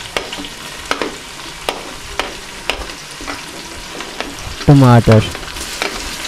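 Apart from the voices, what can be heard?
frying onion, ginger, garlic, chillies and tomato in ghee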